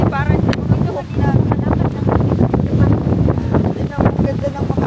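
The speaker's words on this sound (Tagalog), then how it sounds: "Lakas ng hangin dito." Strong outdoor wind buffets the microphone in loud, continuous rumbling gusts, with people talking underneath.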